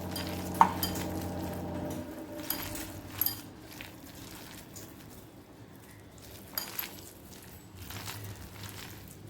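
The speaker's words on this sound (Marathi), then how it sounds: "चांगलं असं मिक्स करून घ्यायचं." Pakoda batter being mixed by hand in a bowl, soft wet squishing and slapping with a few sharper knocks against the bowl early on, faint and close, with no talk.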